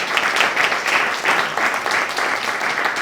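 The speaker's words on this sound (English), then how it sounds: "I think we can all give a special applause to the husband." Audience at a journalism award Q&A breaking into applause, dense continuous clapping, loud and close, sustained across the clip without talk.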